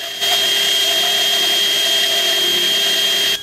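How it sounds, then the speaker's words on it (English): Loud, steady high whine of a file grinding hexagonal nuts that spin on a bolt chucked in a drill, shaping them round, continuous for about three seconds. "I made these by putting some hexagonal nuts on a bolt in a drill and filing them round"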